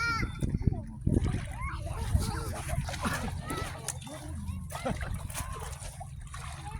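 Sea water splashing and sloshing close by as children wade, with their voices chattering and calling over the watery splatters throughout.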